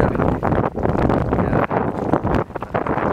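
Strong gusty wind buffeting the microphone aboard a Mirror offshore diesel yacht in June, a loud continuous roaring rumble that surges and dips with each gust, no voices.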